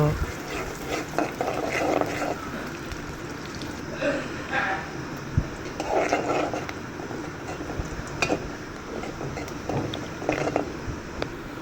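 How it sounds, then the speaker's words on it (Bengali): Chopped onions fry in hot oil while being stirred toward brown, giving a steady crackling sizzle broken by irregular scraping and clattering bursts from the stirring utensil. "দিয়ে আমি পেঁয়াজগুলো ভালোভাবে নেড়ে ছেড়ে ব্রাউন কালার করে ভেজে নেব।"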